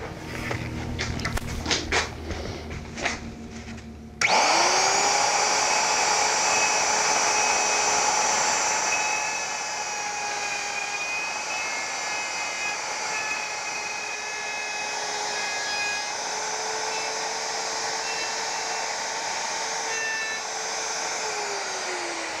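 A router fitted with a 5/8 template guide and a 1/4 inch upcut spiral bit whines steadily as it cuts a bow tie mortise in wood for a stool. The tool starts abruptly and then runs loud and continuous, with a little faint handling noise at first.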